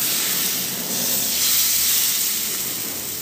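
Rava dosa batter hits a hot pan and sizzles as it is poured around, a loud, close, continuous hiss that swells and eases slightly across the few seconds, with no talking.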